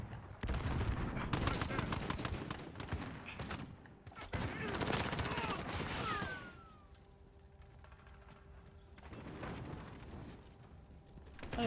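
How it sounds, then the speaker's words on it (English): Shotgun and other gunfire crack in a Call of Duty Warzone team deathmatch, dense rapid bursts of shots dominating at first, then thinning to scattered, quieter reports before picking up again. "he's shooting me from way back there with a shotgun"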